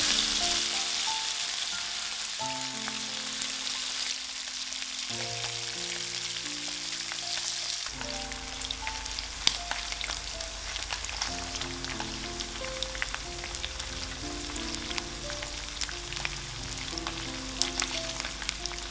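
Thin slices of pork belly fry in hot oil, a steady bright sizzle with occasional pops running continuously under background music, with no talk.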